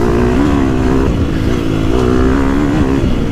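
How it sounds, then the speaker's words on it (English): A 2021 Gas Gas EX250F dirt bike engine holds a loud, steady high rev close by, pitch wavering slightly as the throttle is held open, with no talking. "You just keep on revving, and that's where it likes to make its the big power."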